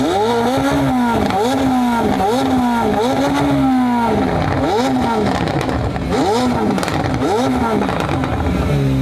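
A McLaren sports car engine revs loudly and repeatedly nearby, the pitch climbing and dropping in a rapid series of throaty surges.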